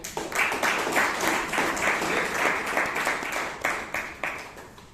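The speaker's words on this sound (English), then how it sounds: "A round of applause for him." An audience at a Toastmasters club meeting in Bangalore gives a round of applause, with many hands clapping steadily at close range throughout, the individual claps distinct in a moderately dense, continuous patter.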